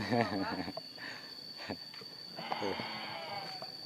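Sheep bleating at a village livestock pen, several wavering bleats close by, mixed with people talking in the background and a steady high electronic whine.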